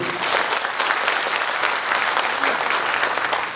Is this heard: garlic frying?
no